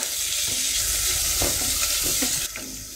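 Shrimp sizzle and fry in a hot pan in a Thai home kitchen, a steady loud crackle with occasional stirring scrapes and clinks.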